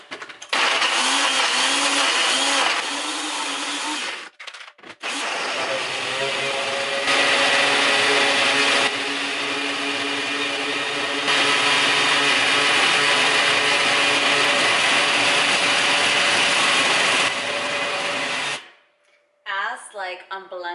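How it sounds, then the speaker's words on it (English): A blender whirs loudly and steadily, blending a strawberry Herbalife shake with liquid, the motor pitch shifting slightly as the mix foams up, then cutting off near the end. "I'm blending it, I see that it's like going up and going up until it gets to the top."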